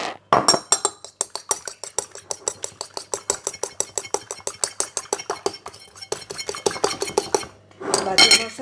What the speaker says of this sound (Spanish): Vamos a batir un huevo que lo vamos a utilizar para pintar